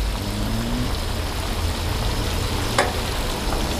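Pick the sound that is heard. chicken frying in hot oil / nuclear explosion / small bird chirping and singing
chicken frying in hot oil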